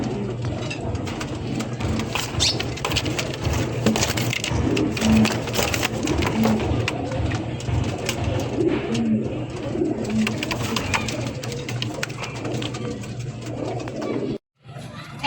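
Pigeons cooing repeatedly at close range in a cage, soft low calls over a constant background hum, with no talking.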